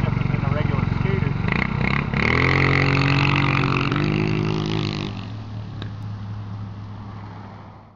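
GY6 scooter fitted with an MRP exhaust revs and accelerates, a loud buzzing engine note rising in pitch close by, then fading as it pulls away over about eight seconds, with a voice talking over the start.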